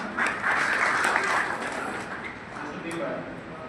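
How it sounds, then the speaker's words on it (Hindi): Applause from children and teachers at a school Olympiad teacher-honouring ceremony, a steady, fairly loud patter of many hands lasting the whole stretch, slightly thinning toward the end. "तालियां"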